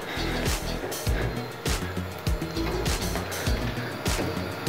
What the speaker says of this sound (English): But the motor's going